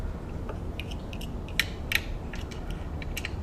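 Mounting bolt being tightened on a White 600 sewing machine, a series of close ratchety metallic clicks over a low steady background hum.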